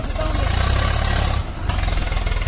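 A tractor engine idles steadily with a low, throbbing rumble, briefly dipping before settling back into the same chugging drone.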